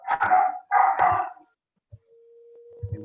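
A dog gives two loud, close barks in quick succession. A short pause follows, then a faint, steady tone and some low noise.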